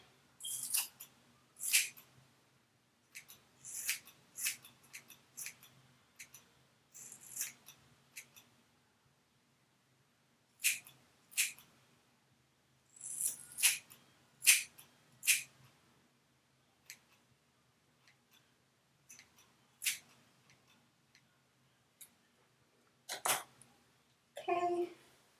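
Scissors snip through long hair being cut into layers, crisp close snips in scattered bursts with quiet gaps between them.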